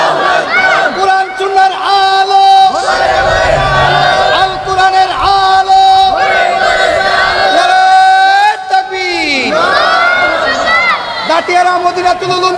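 A large crowd at an Islamic religious gathering roars its takbir response in loud, sustained unison shouts, repeated several times over amplified, reverberant sound.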